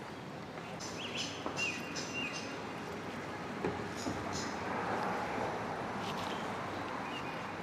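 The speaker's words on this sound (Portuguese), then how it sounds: "Tomara que dê para escutar os passarinhos todos que a gente está ouvindo aqui agora" Small birds chirping and calling outdoors in China, light intermittent tweets over a steady outdoor background hum with faint wind, with no voices.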